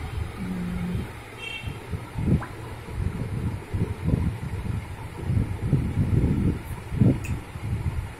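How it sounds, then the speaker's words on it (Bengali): Gusty wind rumbles against the microphone in uneven low bursts, with a faint high hum in the background. "হাওয়াটা কি সুন্দর আসছে।"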